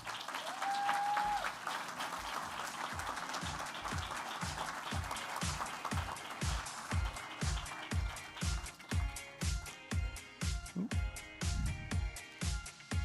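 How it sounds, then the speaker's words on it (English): An audience applauds steadily at a November 2019 student awards night as a scholarship is presented, the clapping growing into a rhythmic, fairly near patter over a wash of crowd noise. "You can clap."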